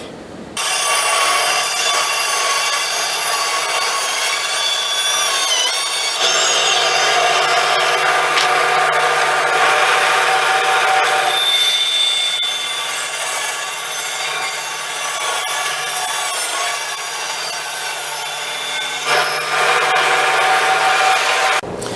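A wooden gunstock blank is cut out with a saw, giving a loud, continuous rasping cut that runs the whole time with small shifts in pitch and pressure and no talking.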